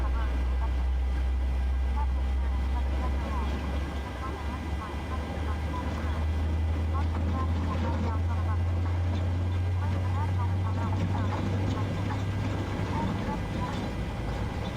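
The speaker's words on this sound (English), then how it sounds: "So engine 2 is coming up." A simulated Boeing 737-800 engine spooling up in a flight simulator game, a steady low rumble with a rising whine that holds for a long stretch and then drops partway through, under faint background sounds.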